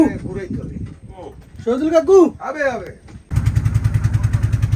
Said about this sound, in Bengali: ছোট ট্রলারটি নিয়ে আমরা রওনা হলাম